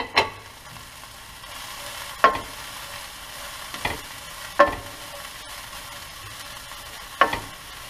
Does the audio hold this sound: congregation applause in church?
no